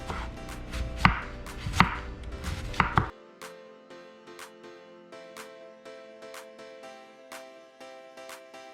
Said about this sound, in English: so now I'm going to shred my cabbage.